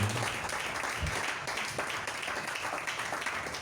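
A church congregation claps together in response, a sustained wash of applause from many hands in a large room, moderately distant and fairly soft.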